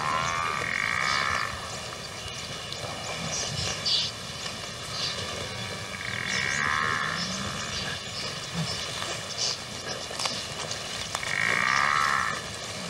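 A herd of African buffalo lowing, with several deep, drawn-out calls recurring every few seconds over a steady outdoor background; no voices.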